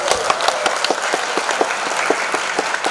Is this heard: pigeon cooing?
no